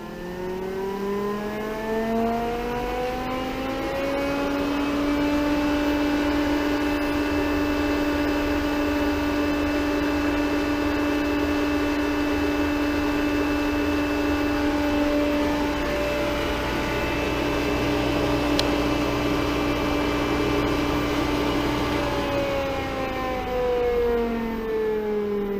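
A variable speed pump holding at its full 3,450 RPM, a loud steady electric whine with strong harmonic tones that ramp up at the start and ease down near the end, with no voices.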